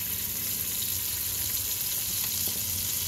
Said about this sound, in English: I'm going to put the butter in